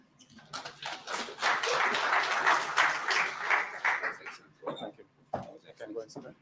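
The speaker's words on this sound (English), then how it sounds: "A round of applause" A conference audience gives sustained applause after a speech: dense clapping swells for several seconds, then thins into scattered claps, with a voice talking near the end.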